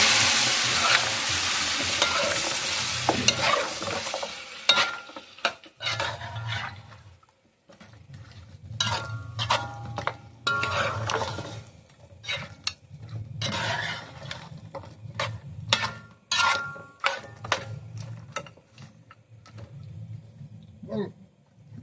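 Steamed chicken for a chicken curry sizzles and fries in a pot while being stirred, with repeated scraping and clattering strokes over a steady close frying hiss. The sizzle starts loud and bright, then drops to intermittent stirring bursts, with no talking.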